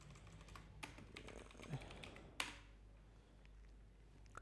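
Faint, scattered keystrokes on a computer keyboard click at an uneven pace against a low background hum, one tap standing out louder midway.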